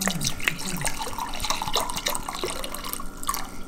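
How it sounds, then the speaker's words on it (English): Rosé wine splashes from a bottle into a glass, a close continuous gurgling pour lasting a few seconds. "she's gonna pour us a glass"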